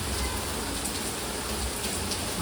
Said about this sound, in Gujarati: તમે વરસાદ જો વરસાદ ચાલુ છે તો બંધ જ નહીં થયો